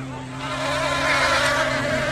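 A swarm of bees drones steadily over a baseball field, a dense buzzing hum that swells slightly louder over the stretch, heard alone without talk.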